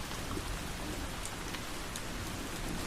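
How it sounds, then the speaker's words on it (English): Gentle rain falls steadily, a soft even patter of drops on surfaces at low volume, continuous throughout with no voices or other sounds. "Listen to the sound of the rain gently falling in the background."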